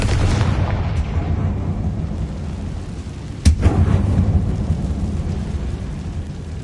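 A Confringo spell blast in Hogwarts Legacy goes off inside an old mine, a single sudden boom midway over a steady low rumbling background.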